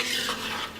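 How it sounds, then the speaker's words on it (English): Shrimp curry being stirred in a pan, a steady scraping and mixing texture with faint utensil clinks against the pan, continuous and close for under a second. "We'll mix everything together"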